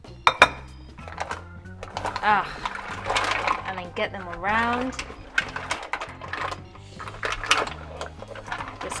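Mussels clattering and clinking in a hot cooking pan with thick coconut curry gravy, a busy run of close metallic shell rattles and clacks with sharp knocks at the start, heard under someone talking.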